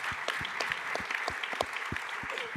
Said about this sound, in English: Can we get a huge round of applause for Jack Dorsey?